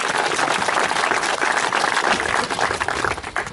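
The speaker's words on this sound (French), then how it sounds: "je voudrais qu'on applaudisse l'association" An audience applauds at the inauguration of a solar oven in Sorède, brisk clapping that holds steady and then begins to thin out toward the end.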